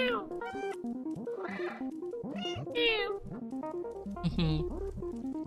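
A cat in the video game Stray meows repeatedly, a string of close, varied rising and falling cries, ending with a low rumble beneath a final call.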